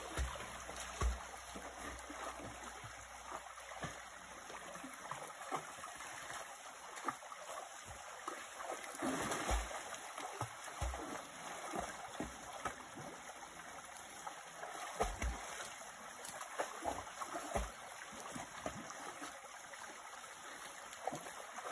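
Faint water sloshing and small splashes from someone swimming in a little outdoor puddle on a hike, irregular and soft against a quiet background with occasional sharper splashes.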